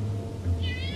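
A brief, high meow from a cat in Assassin's Creed Syndicate, coming in near the end over a low steady hum of game ambience.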